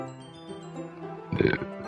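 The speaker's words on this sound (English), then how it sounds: "when I get really anxious or scared, I burp." A single short, low burp, close and fairly loud, comes near the end after quiet background music.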